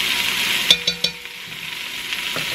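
Onions for a braised pot roast sizzling in a pan, a bright steady hiss with a few quick clanks as the pan is tossed near the start, close and with no voices.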